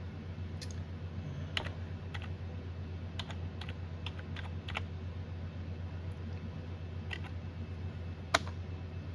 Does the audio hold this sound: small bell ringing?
no